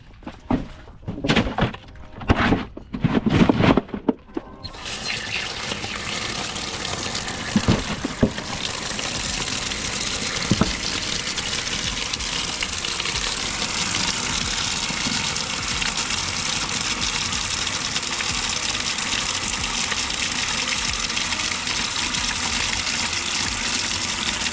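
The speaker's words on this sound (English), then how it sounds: "I'm gonna go ahead and dump this water out and we'll refill it." Water gushes and splashes steadily as a crawfish boil pot is dumped out and refilled, with a few sharp thunks of the pot at the start before a continuous, fairly loud running-water rush takes over.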